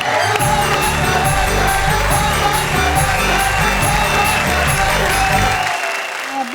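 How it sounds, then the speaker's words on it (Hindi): Audience applause and cheering at a Hindi poetry recital, a dense sustained clapping with whoops and shouts that fills the clip and then cuts off sharply near the end. "तालियां"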